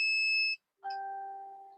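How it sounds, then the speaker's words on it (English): A multimeter in continuity mode gives a clean electronic beep, then after a short gap a second, lower and longer tone, clear and close in a quiet room. "Now putting the multimeter in beeping mode."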